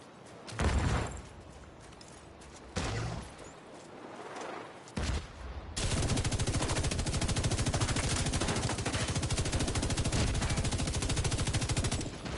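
Gunfire in The Division 2 during a PvP match, several separate loud bursts followed by a long, unbroken rapid machine-gun stream, close and dominant.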